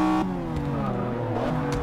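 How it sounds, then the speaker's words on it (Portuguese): A McLaren F1 GT V12 engine revs in the racing game Forza Motorsport 6, a loud brief whine with shifting pitch that drops and climbs again under faint background noise. "Cara, esse motor fala muito lindo."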